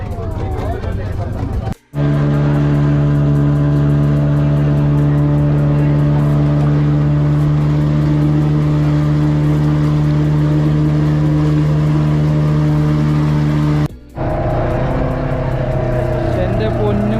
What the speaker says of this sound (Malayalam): നമ്മളെ ദ്വീപിലേക്ക് കൊണ്ടുപോകുന്ന ബോട്ടാണ്.